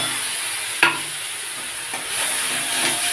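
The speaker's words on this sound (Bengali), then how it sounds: "এবার আমি পেঁয়াজ রসুন বাটাটা দিয়ে দেবো" Onion and garlic paste hits a hot pan and sizzles with a bright, steady hiss, broken by a sharp clink of a utensil and light stirring scrapes.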